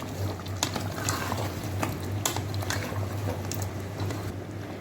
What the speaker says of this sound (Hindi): अब जो हम इसे जब तक भून लेंगे जब तक ऑयल सेपरेट ना हो जाए